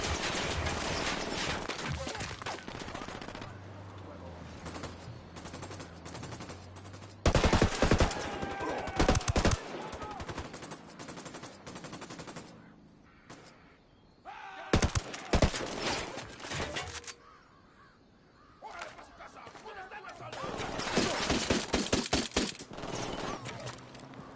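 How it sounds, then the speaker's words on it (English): Gunfire in the video game Ghost Recon Wildlands, with bursts of automatic shots in loud clusters separated by quieter stretches of low rumble and voices talking. "Opening fire."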